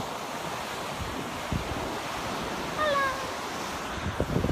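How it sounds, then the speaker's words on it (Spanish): Ocean waves washing onto a beach in Florida, a soft continuous surf wash with light wind, faint and distant, with a brief high chirping sound partway through. "ya estamos aquí en la playa."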